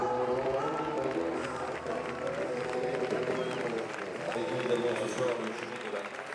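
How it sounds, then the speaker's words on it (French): Sustained applause and crowd noise from an audience in the Salle Lumière of the Palais des Festivals at Cannes, ovation for Asghar Farhadi; dense steady clapping with murmuring voices throughout, loud and continuous. "Asghar Farhadi qui a été applaudi de longues, longues minutes cet après-midi dans la salle lumière du Palais des Festivals"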